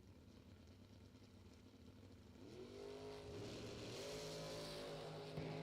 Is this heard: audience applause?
no